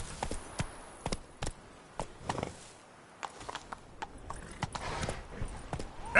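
Hooves of Roach, a horse in The Witcher 3, clip-clop in irregular sharp strikes, fairly close, with quiet gaps between bursts and a faint ambient bed.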